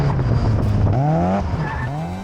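A budget car being learned on for drifting slides with its tyres squealing. Loud engine drone sits under a rising, wavering screech, heard close and continuous.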